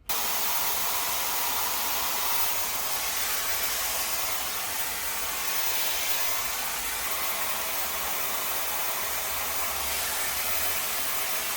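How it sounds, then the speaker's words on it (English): A hair dryer with a diffuser attachment blows continuously and loudly while drying curly hair, a steady broad airy roar with no pauses or talking. "I'm going to diffuse, and then I'll be back so we can start pinning."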